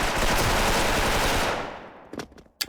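Loud, rapid automatic gunfire from the online shooter game Special Force fills the first second and a half, then cuts off and is followed by a few sharp single shots.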